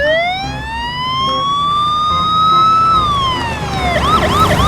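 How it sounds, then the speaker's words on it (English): A toy police motorbike siren sounds loudly, a rising wail that holds and then drops, switching at the end to a rapid warbling yelp, with no voices over it. "this is police motorbike"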